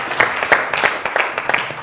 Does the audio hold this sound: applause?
yes